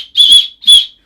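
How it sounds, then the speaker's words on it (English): Two sharp, loud blasts from a small emergency whistle on a Nike trail running gilet, each lasting about half a second with a short gap between, heard alone and close up. "a whistle just in case of emergencies"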